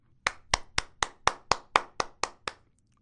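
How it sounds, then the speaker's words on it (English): Schoolchildren in a primary science lesson clap together in a steady rhythmic pattern of about ten sharp, evenly spaced claps, close and clear, then stop. "Can you clap for yourselves?"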